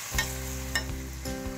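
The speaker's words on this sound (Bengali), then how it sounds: "মাংসটা দেওয়ার পর একটু নেড়ে নিচ্ছি যাতে মশলাটা পুড়ে না যায়।" Camel meat with spices sizzling in a pan as it is stirred, with a close, steady frying hiss, a couple of quick utensil clatters and a low droning hum beneath.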